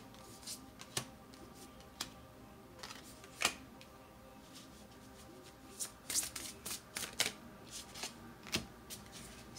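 Tarot cards are shuffled close by in soft, scattered bursts of riffling and slapping, quiet between the louder flurries, with no talking.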